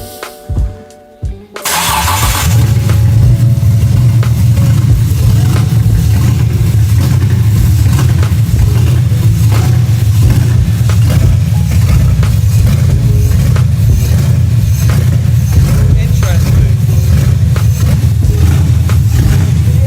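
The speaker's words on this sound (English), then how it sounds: "the engine doesn't sound very happy" A BMW E46 engine cranks briefly, catches and settles into a loud, steady but uneven idle with a rough, pulsing rumble.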